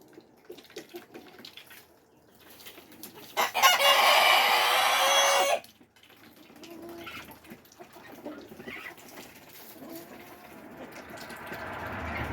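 Backyard chickens and a rooster in a coop cluck and call nearby, with a loud burst of squawking or flapping partway through and steady poultry chatter around it.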